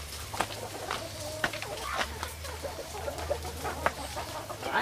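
Free-range chickens cluck and call across a farmyard at middle distance, with scattered short clucks over a low steady hum.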